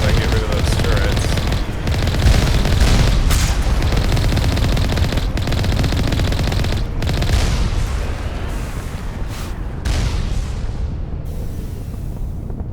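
Turrets are under attack in the Mass Effect video game, with dense, loud gunfire and booming impacts that carry on steadily and thin out toward the end. Game voices can be heard underneath.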